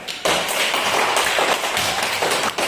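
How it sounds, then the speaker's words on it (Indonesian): Students clap in a classroom for a group of classmates, a dense burst of many hands that pulses unevenly, briefly thinning and rising again before stopping. "Tepuk tangan untuk kelompok 1"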